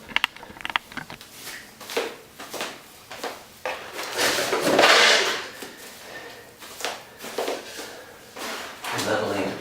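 Laminate floor planks are tapped to close gaps between them, giving a run of close, sharp knocks and scraping clatter at an irregular rhythm, with a louder scraping burst partway through. Someone talks over the knocking.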